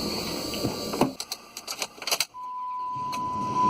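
Ignition sequence on a 2005 Dodge Dakota pickup turned with a newly cut key: a few clicks and key rattles, then the engine catches and idles steadily beneath a thin, continuous chime tone.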